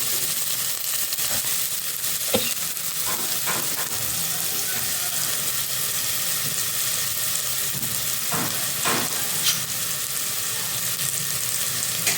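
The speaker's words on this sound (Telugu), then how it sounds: "కొంచెం ఫ్రై అవ్వాలండి అది" Food fries in a pan with a loud, continuous sizzle and hiss, broken by occasional scrapes and taps of a spoon stirring, close up and with no talking.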